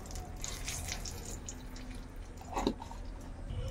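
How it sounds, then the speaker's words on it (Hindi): Oil poured into a pan already used for frying fish, a faint trickle and drip with a brief bubbling splash, quiet over a low background hum. "थोड़ा सा तेल और डाल देंगे।"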